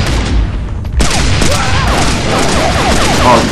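Gunfire in the zombie survival video game Survival Crisis Z, a loud continuous volley of shots and crashing impacts filling the whole stretch, with no clear speech over it.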